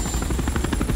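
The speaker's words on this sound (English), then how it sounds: "This helicopter better spawn in this time." A helicopter in the zombie game Dying Light Bad Blood, heard as a brief, steady rotor chop with a fast, even beat, loud and close, with no voices.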